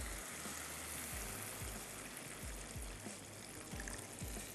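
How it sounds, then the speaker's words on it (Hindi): About a cup of water is poured into a pot of dal, a steady continuous gush of liquid with a faint, close splashing trickle under it. "तो मैं इसमें अब ऐड कर देती हूँ तकरीबन 1 कप पानी"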